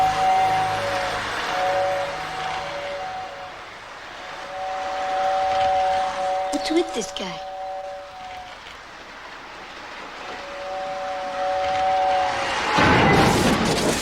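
A model train in a film runs along its track with a sustained whistle tone sounding in repeated stretches, clattering mechanical noise and a rough burst near the end, as someone speaks briefly over it.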